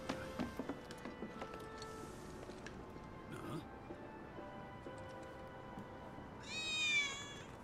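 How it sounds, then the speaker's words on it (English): A cat meows in Final Fantasy 7 Remake, a short rising call near the end, preceded by faint game ticks and tones. "Oh, is that another kitty?"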